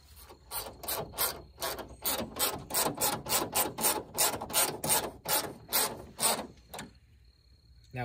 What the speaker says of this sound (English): And then we put the bolts back.